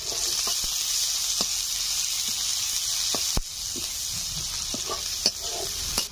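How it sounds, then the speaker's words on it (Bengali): Two medium chopped onions sizzle steadily in hot oil with dried red chillies and a bay leaf. Occasional stirring scrapes and clicks break through the close, continuous frying hiss. "দুটো মিডিয়াম সাইজের পেঁয়াজ কুচি করে কেটে নিয়েছি, দিয়ে দিচ্ছি"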